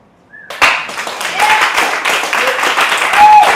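An audience breaks into applause after a moment of quiet, the clapping swelling and staying full and steady, with a few faint voices mixed in.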